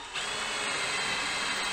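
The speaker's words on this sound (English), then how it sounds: "I drill a hole." A power drill whirs steadily at close range after a quick start, drilling a hole in wood and running continuously for a couple of seconds.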